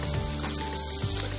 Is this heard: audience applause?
no